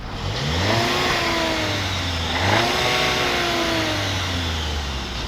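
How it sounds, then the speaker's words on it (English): A 2022 VW Tiguan R-Line SUV engine revs up repeatedly outdoors, pitch climbing and falling in two strong surges, loud and fairly close with no talking. "let's take a listen from the outside."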